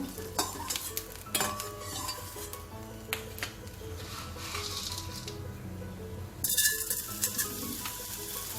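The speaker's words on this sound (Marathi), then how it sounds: "छान फुलतो तळला की खुसखुशीत होतो क्रिस्पी होतो आणि पटकन तळून होतो" Edible gum (dink) frying in oil for laddoos, a steady crackling sizzle broken by repeated clinks and scrapes of a spoon against the pan, with a louder bubbling surge near the end.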